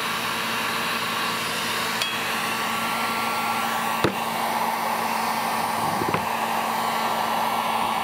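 A hot air blower runs steadily and close, heating parts of a 1923 16-inch GE AOU Loop Handle fan during paint work to drive off moisture, with a few faint clicks and taps over the continuous roar.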